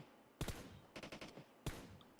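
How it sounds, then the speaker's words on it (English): Rapid gunfire in PUBG Mobile while aiming on the move: a burst of close shots, then a quick string of several reports, then another sharp shot, each punchy against near silence. "that's some pretty precision aiming, shooting downfield like that while moving"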